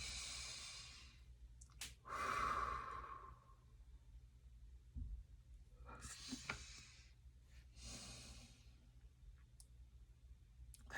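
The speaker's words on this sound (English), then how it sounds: "I just felt the need to take a very deep breath." A few deep, slow breaths taken close to the microphone: a long airy inhale, a fuller exhale, then further softer breaths separated by quiet pauses and a faint click.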